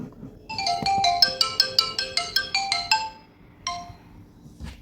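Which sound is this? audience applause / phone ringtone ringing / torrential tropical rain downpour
phone ringtone ringing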